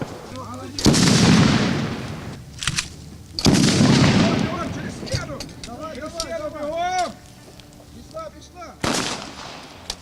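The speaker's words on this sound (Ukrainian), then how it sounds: "там колонка є, аудіо і розриви, там імітація взривів" Loud blasts and rumbling booms of simulated explosions played from a loudspeaker on a training obstacle course burst out repeatedly, with shouting voices and chatter in between.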